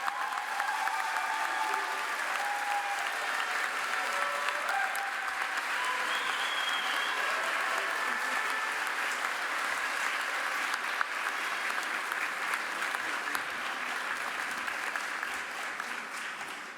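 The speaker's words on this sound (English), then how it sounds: "let's give a round of applause for all of our Arrupe graduates" At a college commencement ceremony, the audience gives sustained applause for the graduates, a dense, steady wash of clapping with a few scattered cheers, continuing at even volume throughout.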